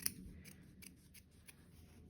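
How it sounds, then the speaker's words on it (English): Scissors snip through the fabric seam allowance of a sewn shirt, several crisp, close cuts in an uneven rhythm with soft rustling between, no talking. "you can also take your scissors and just trim off the"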